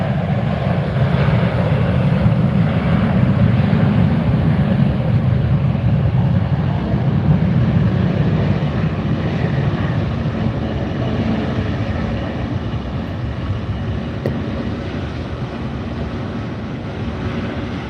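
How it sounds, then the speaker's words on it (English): A JetBlue airliner in vacation special livery takes off from Fort Lauderdale with a sustained low engine roar that is strongest early and slowly fades as it climbs away. "That is the vacation special livery on JetBlue, up in the air and away"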